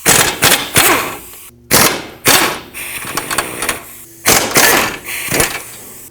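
A pneumatic impact wrench rattles off two 17mm nuts and a bolt on a 2009-2015 Toyota Prius with the wheel removed, in loud repeated bursts of hammering with short pauses between them.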